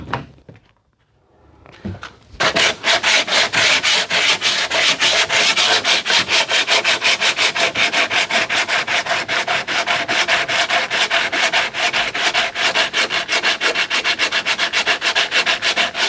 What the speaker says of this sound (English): I'll just give it a quick rub down. So I'm using 60 coarse paper and using a sanding block.